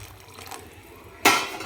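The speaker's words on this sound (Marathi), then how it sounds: "थोडंसं गरम पाणी टाकते." Hot water splashes into a pan of mutton frying in oil for a spicy curry, a single sudden gush near the end after a quiet stretch, close up and with no talking.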